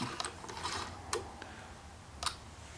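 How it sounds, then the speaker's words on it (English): A 4mm hex key works a bolt loose on a Kawasaki Concours 14 motorcycle during a helmet lock install, giving a few faint, sharp metallic clicks and ticks close by against quiet background. "take your 4mm hex key and remove this bolt."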